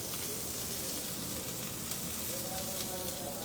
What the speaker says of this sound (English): then I've got a good sear on the bottom of it